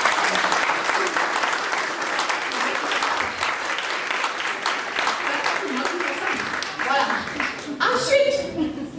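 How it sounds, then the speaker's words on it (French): A conference audience in Dschang, Cameroon, breaks into loud sustained applause, a thick continuous clapping that carries on for several seconds, with a voice starting to speak near the end. "Applaudissez pour moi"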